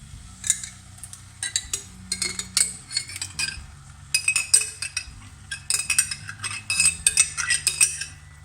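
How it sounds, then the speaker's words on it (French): Tomato sauce being added and stirred into a pan for eggplant parmigiana, metal utensils clinking and scraping against cookware in irregular bursts, close and fairly loud, with no talking. "je rajoute ma sauce tomate"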